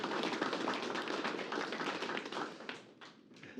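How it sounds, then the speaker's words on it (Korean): Church congregation claps for the choir, conductor and accompanists, a dense run of hand claps filling the room, fading into a few scattered claps near the end. "우리 찬양 단원과 지휘자 반주자에게 다시 한번 우리 박수 해주시기 바랍니다"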